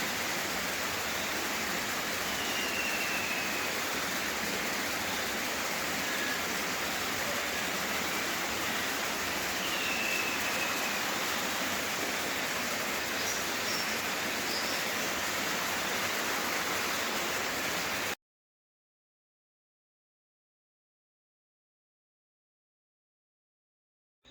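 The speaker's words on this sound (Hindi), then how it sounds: "झरने की आवाज" A waterfall rushes in a steady, dense roar that holds at an even level for about eighteen seconds, then cuts off abruptly into silence.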